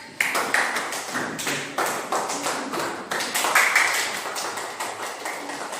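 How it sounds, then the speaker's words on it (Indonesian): A group of students clapping hands in a classroom during a teaching practice session, quick uneven bursts of claps starting and stopping in several short waves, fairly close and moderately loud, with no talking. "Tepuk tangan."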